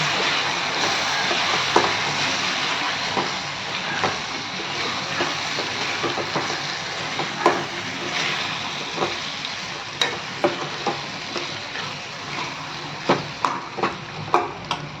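Beef sautéing with garam masala, mutton masala and homemade chilli powder in a home kitchen: a steady broad sizzle, close, broken by frequent scraping clicks of a spoon stirring the pan.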